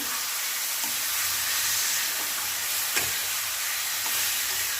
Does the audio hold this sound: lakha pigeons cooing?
no